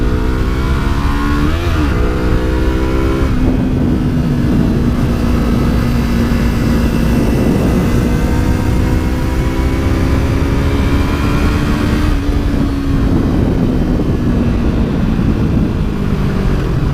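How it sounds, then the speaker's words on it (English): A Yamaha R3 sport motorcycle engine revs hard during low wheelie practice in a parking lot, loud and close, with rising and falling revving pitch across the stretch and no talking. "let's see if I can go do a little bit of baby wheelie action."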